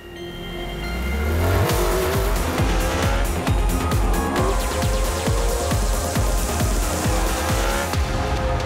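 On the Alès circuit, a high-revving racing engine, either an Aprilia motorcycle or a single-seater race car, accelerates hard through a rapid series of gear changes during warm-up laps. The engine is loud and close, with its pitch climbing repeatedly.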